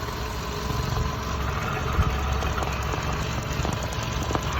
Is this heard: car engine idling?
yes